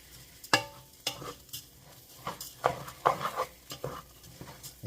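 Rice toasting in a pan for tomato risotto, with scattered scraping stirs and light sizzling bursts, close and fairly quiet.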